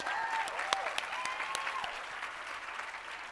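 Audience applause fills a commencement ceremony hall, a steady wash of clapping with a few sharp individual claps standing out, fairly loud and continuous for a few seconds.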